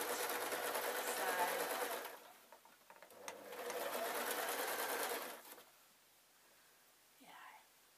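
A domestic sewing machine stitches a pompom cushion in two steady whirring runs, a brief pause between them, close and loud, then stopping with faint handling noise.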